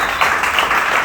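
Church congregation applauding loudly during a service, a dense steady wash of clapping filling the short moment without pause.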